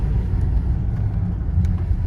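Heavy Mercedes car, nicknamed a tank, accelerating on the road around Marseille: a steady, deep engine rumble with a dense low-end drone that holds at an even level throughout, heard from inside with no talking.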